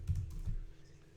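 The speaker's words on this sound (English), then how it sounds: "I'm glad to have a keyboard right here" Someone types on a computer keyboard during a gaming livestream, a quick burst of soft, muffled key presses near the microphone, fading into a low hum.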